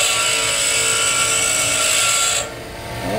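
A bench grinding wheel sharpens a steel lathe threading tool with a loud, steady high-pitched grinding whine that cuts off sharply near the end, leaving the wheel running more quietly.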